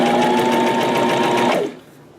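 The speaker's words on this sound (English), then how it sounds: "I'm gonna put the foot down and we're gonna sew it up." A sewing machine stitches fabric joined to a crochet piece, running at a steady fast whirring pace close up for about a second and a half before stopping, leaving quiet room tone.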